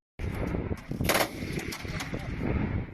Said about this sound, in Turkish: Yayınlanan kayıtlarda Ortodoks papazlardan birinin askeri araç üzerinden ağır makinalı silahla atış talimi yaptığı görülüyor.